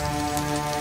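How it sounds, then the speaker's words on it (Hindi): Heavy rain pouring down in a jungle, a continuous dense hiss with a faint steady hum beneath it, heard alone in a brief stretch. "एक दिन जंगल में बड़े जोरों से बारिश हो रही थी।"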